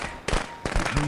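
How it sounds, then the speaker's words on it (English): Firecrackers going off in the Friday the 13th video game: two quick bursts of sharp crackling pops about a third of a second apart, loud and close. "What the hell is that? Firecrackers."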